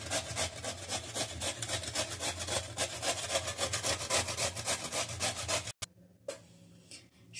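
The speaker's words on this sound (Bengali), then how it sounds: "এবারে একটা গ্রেটারের সাহায্যে বিটগুলো একটু ঘষে নেব, একটু এই সরু দিকটা থেকে ঘষব।" Peeled beetroot rasped across the fine side of a grater makes a steady run of rapid scraping strokes, close and fairly loud, then stops abruptly and is followed by a few quieter scrapes and handling sounds.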